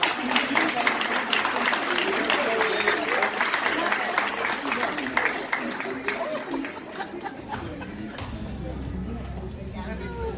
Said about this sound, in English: please give a round of applause to Pastor David Willis